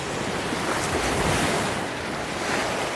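Waves rolling on a vast mountain lake, a continuous rushing wash of water with strong wind noise against the microphone, loud and steady, no voices.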